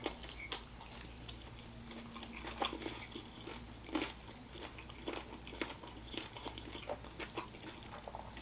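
Someone eats a well-done Little Caesars pepperoni pizza with crunchy pepperoni, close, quiet bites and chewing crunches at irregular intervals over a low steady hum.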